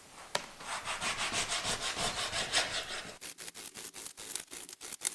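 A rolled-up length of jersey fabric is cut into strips for face masks with a rapid run of close, rhythmic rasping strokes, followed by a series of sharper separate snips near the end.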